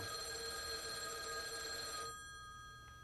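A telephone bell rings steadily and fairly loud indoors with a sustained tonal ring, then cuts off abruptly around two seconds in, leaving faint room tone.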